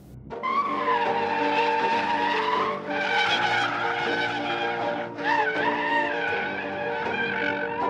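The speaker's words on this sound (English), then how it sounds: "a rear drive comparison wouldn't be complete without a thorough drifting evaluation" A Subaru BRZ, rear-wheel drive, drifted by a professional drift champion, produces sustained, loud tire squeal with a howling engine note, breaking into three long screeching passes with brief dips between them.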